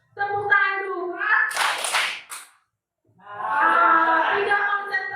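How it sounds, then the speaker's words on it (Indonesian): A class plays a clapping game: children's voices chant, a brief burst of hand claps cuts in, and after a short pause the voices resume. "Tepuk tangan 1, tepuk tangan 2."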